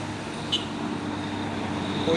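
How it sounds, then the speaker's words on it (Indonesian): An ALS bus passes on an Indonesian road, a steady roadway drone of engine and tyre noise that swells toward the end, with a voice talking faintly over it. "ada bus ALS"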